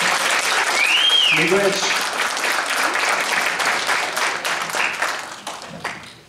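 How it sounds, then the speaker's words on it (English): Audience applause at a health conference panel, sustained, dense clapping from a crowd, with a brief voice over it early on, tapering off toward the end. "A round of applause for"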